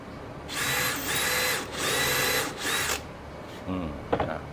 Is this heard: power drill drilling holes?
yes